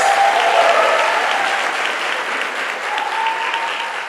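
Loud, sustained applause from a large crowd, steady clapping throughout with no pauses.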